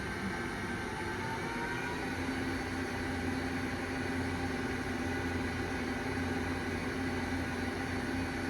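An oil country lathe with inverter drive control turns at very low speed, giving a steady, even mechanical hum with a constant low drone and broadband noise throughout, with no voices.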